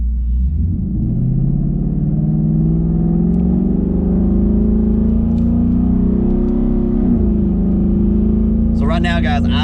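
A 2019 twin-turbo Coyote car with a 10R80 transmission drives under manual shifting, its engine a loud, steady low rumble that rises gradually in pitch, with a short higher burst near the end.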